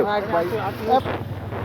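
Strong wind rushes steadily over the microphone while riding a motorbike on an open road, a loud continuous buffeting roar with a voice talking through it.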